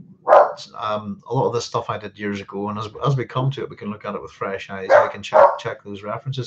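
A dog barks in the background, fairly faint and mixed under a man's steady, continuous talking.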